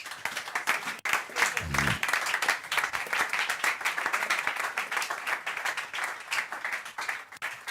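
A church congregation claps and applauds loudly, a sustained wash of many hands that carries evenly from start to finish.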